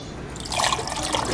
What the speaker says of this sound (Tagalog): Talagyan ko lang ng tubig.